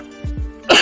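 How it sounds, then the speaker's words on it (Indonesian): A single person coughs close up, two short throaty bursts followed by a breathy exhale, set in a workshop with a Honda Revo motorcycle converted into a three-wheeled cart. "batuk."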